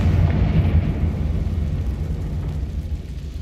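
A Confringo fire-blast spell in Hogwarts Legacy leaves a heavy, low rumbling roar that starts loud and fades slowly over a few seconds, with no voices over it.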